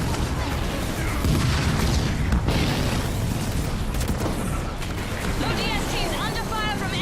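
Battle gunfire and rumbling explosions from the video game Halo Wars 2, a dense, loud, continuous barrage with deep booms, chirping sci-fi effects and voices mixed in.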